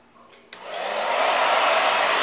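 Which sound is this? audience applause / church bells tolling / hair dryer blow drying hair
hair dryer blow drying hair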